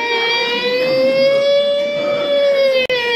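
A human voice imitates an American police siren, holding a single steady wailing tone that rises slightly and falls again, loud and close for about three seconds with no other sound.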